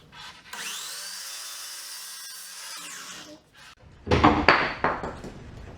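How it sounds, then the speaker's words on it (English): Miter saw spinning up and cutting a slice from a tree trunk: a rising motor whine that holds then winds down, followed by a harsh burst of wood cutting. "If a piece is stable enough, I will cut it here at the miter saw."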